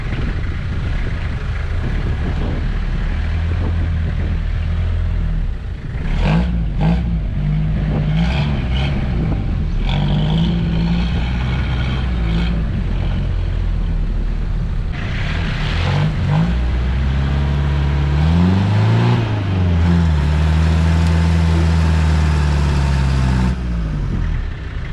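A Toyota Hilux with a rebuilt front differential drives in full four-wheel drive, its engine droning close by and rising and falling in pitch as the throttle changes, with no talking.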